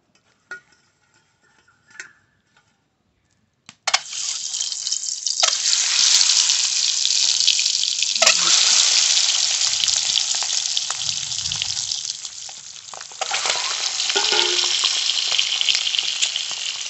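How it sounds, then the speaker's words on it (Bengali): Eggs hit hot oil in a pan and burst into a loud, steady sizzle after a few quiet moments, crackling on with small pops and spatters. "তেল দেব, ডিম ভেজে নেব"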